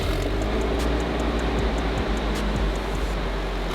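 A Nissan S15 fitted with a Kakimoto exhaust idles after a cold start and is revved, giving a loud, steady low-pitched drone with a few swells in engine speed.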